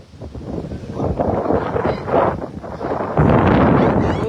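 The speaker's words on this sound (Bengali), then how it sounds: "প্রচন্ড বাতাস" Strong wind sweeps across the Tanguar Haor wetland in the month of Baishakh, buffeting the microphone with a steady broadband roar that surges louder toward the end, with no talking.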